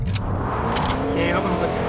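A car engine hums steadily in the Fortnite battle royale game while players talk over it, with a faint rising whine in the background.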